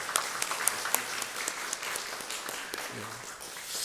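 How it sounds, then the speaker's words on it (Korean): A church congregation breaks into applause, a dense, moderately distant wash of many hands clapping steadily in a hall, with a few sharper individual claps standing out and no speech over it. "우리 다시 한번 감사의 박수를 우리 드리면 좋겠습니다"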